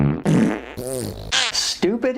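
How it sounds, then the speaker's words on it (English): Comic fart noise effects in a rapid string of separate, loud bursts that rise and fall with voice-like warbling. "immature fart noises."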